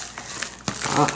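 Scissors cut plastic coin packaging: crinkling, crackling plastic with a sharp cut or tear midway, close and fairly loud, no talking.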